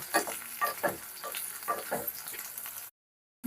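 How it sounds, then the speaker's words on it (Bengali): Ridge gourd fries in a pan with a quiet, continuous sizzle broken by repeated stirring scrapes, then stops abruptly. "এই যে ঝিঙে ভাজা করে নিচ্ছি ঝিঙেগুলো প্রথমে বেশ ভালো করে ভেজে নিচ্ছি"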